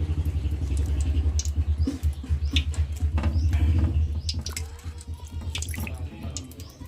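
Tap water runs and splashes over brinjals being washed in a sink, a close, continuous rushing stream with rhythmic pulsing as the vegetables are rubbed and turned.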